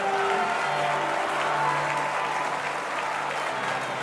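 A live concert audience at a recorded show claps steadily and densely throughout, a continuous wash of applause with faint crowd noise underneath.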